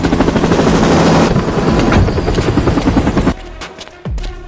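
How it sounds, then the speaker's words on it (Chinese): An aircraft in an animated series flies overhead with a loud, rapid chopping roar for about three seconds, then cuts off sharply, leaving quieter scattered sounds. "小辉，你看是飞机。"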